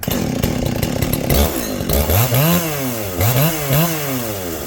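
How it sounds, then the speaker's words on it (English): A large-frame vintage 77 cc chainsaw runs loud and close, first at a steady idle-to-high drone, then bogging and rising in repeated pitch swoops as it cuts through wood. "It's a big frame saw for only being 77 cc's."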